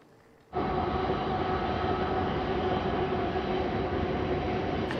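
A train rumbles steadily close by a lakeside campsite, a loud continuous roar with rolling rail noise and a faint tonal hum that starts abruptly and holds for several seconds, with no one talking.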